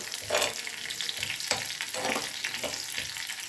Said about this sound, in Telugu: గింజలు, పచ్చిమిర్చి కొద్దిగా లైట్ బ్రౌన్ కలర్ వచ్చేంత వరకు ఫ్రై చేసుకోవాలి